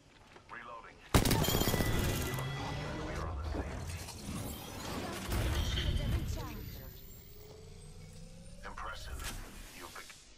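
Gunfire rings out in a shooter video game, with a sudden loud burst of shots followed by a rattling stretch of rapid fire and scattered mechanical clatter, fading toward a quieter tail.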